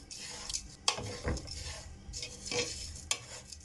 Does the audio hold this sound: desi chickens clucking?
no